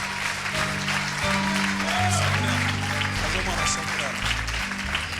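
A church congregation applauds during a service, steady clapping mixed with voices and low sustained music underneath, the sound full and continuous throughout.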